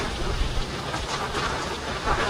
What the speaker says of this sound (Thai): ฝนตกแรงเลยคราวนี้